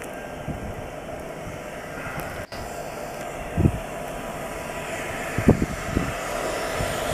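Short CN freight train passing in a Montreal snowstorm with its long hood forward, a continuous heavy rumble and high whine, with a few louder knocks and clanks as cars roll by.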